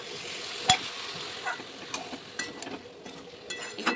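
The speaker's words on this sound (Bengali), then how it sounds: "ভালো করে নেড়ে চেড়ে নিচ্ছি মশলার সঙ্গে কষিয়ে" Fresh green peas being stirred and sautéed with spices in a pan, a soft sizzle broken by intermittent spatula scrapes and knocks against the pan, quiet and close with no talking.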